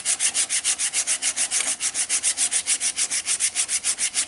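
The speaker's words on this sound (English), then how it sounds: "stuff will definitely clog up your sandpaper quick, but it's worth it" Sandpaper rubs against wood turning on a lathe, making a loud, steady, rhythmic rasp that pulses about eight times a second and holds the same pace from start to finish.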